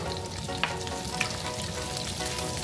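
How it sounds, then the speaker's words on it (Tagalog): Garlic and onion sautéing in a pan for pancit bihon make a dense, continuous sizzle and crackle close up. Faint scrapes of stirring come through, and no one speaks. "pwede na tayong mag-isa ng bawang at sibuyas"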